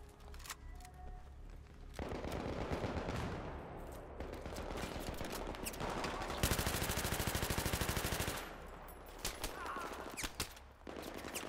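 Gunfire in Battlefield 3 during an infantry assault near an overpass: bursts of automatic rifle fire and sustained machine-gun rattle, loud and close, with a long continuous stretch of rapid shots between shorter volleys.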